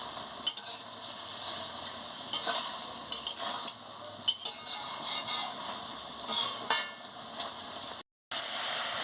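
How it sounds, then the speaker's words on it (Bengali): Ridge gourd and potatoes are stir-fried in a pan over a steady sizzle, broken by repeated scrapes and knocks of a spatula at an uneven rhythm, close and moderately loud, with no talking. "ভালো করে আমি এটাকে কষিয়ে নিচ্ছি। আলু আর এই ঝিঙেগুলোকে ভালো করে কষিয়ে নিচ্ছি।"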